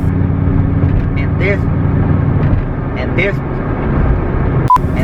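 A Ford SVT Cobra's engine drones steadily on a four-lane highway in a street race alongside other muscle cars, a loud continuous rumble with a faint voice underneath and a brief sharp click near the end.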